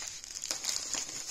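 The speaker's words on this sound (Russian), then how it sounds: "Опять пакетик. Пупырки пошли." Bubble wrap and plastic packaging crinkle and rustle steadily while a parcel is unpacked, with a few sharper crackles near the end, fairly close and moderately quiet.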